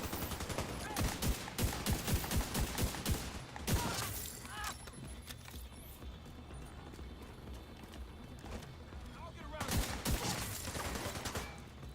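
Rapid bursts of gunfire in the video game The Division 2, clustered volleys at the start and end with quieter ambience between, with faint background sounds.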